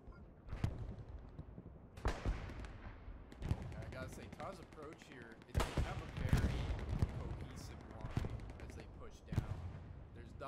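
Heavy artillery and gunfire boom through a multiplayer video game tournament battle, arriving as several loud, irregular blasts and bursts, with a voice talking between and over them.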